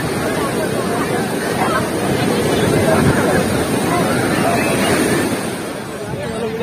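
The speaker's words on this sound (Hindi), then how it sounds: "लहरों का मजा ले रहा है" Sea waves washing onto a beach at night, a continuous loud rushing surf with wind buffeting the microphone throughout.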